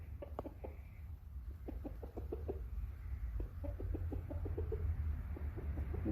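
Chickens on a farm clucking in short repeated bursts, fairly faint over a steady low background rumble.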